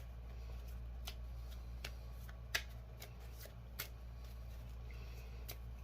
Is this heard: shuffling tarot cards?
yes